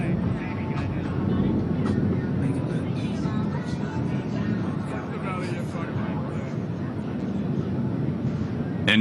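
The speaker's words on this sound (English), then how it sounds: "Triple will demonstrate the extraordinary roll performance of the F-16 with 4 consecutive aileron rolls at low altitude." An F-16 fighter jet roars continuously at low altitude during a Fourth of July air show display in Washington, DC, performing consecutive aileron rolls. Its broad, steady rumble is heard from a distance, with crowd noise and an announcer's voice over it.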